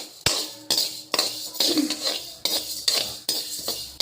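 Coriander seeds dry-roasting in a pan while being stirred, with repeated sharp metallic scrapes and clinks of the spatula against the pan in an uneven rhythm, close and fairly loud with no talk.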